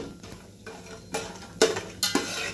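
Whole spices frying in a pan, a soft steady sizzle broken by a few sharp metallic clinks and scrapes of a spoon stirring.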